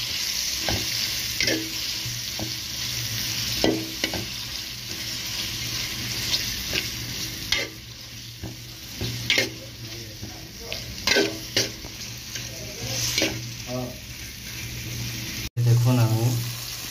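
Food seasoned with salt and turmeric stirred in a pan during cooking of sweet pumpkin with fried onion and chilli, a steady sizzle under repeated scraping strokes, with a brief burst of running water near the end.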